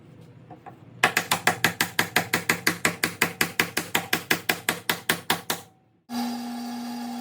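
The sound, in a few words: hammering glued wedges into wooden mallet handle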